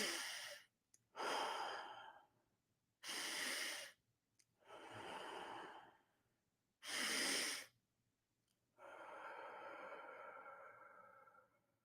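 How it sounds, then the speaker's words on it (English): Slow, deep human breaths sound close and quiet in a calm indoor setting: several long inhales and exhales separated by silent pauses, ending with one drawn-out exhale. "Take a deep breath."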